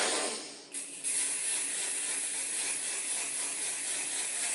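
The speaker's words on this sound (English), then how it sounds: "It's an aerosol can. So make sure you hold your breath and close your eyes when you're using it." JM Solution Marine Luminous Pearl sunscreen sprayed from an aerosol can, a steady close hissing blast that starts, briefly stutters, then continues evenly to the end, with no talk.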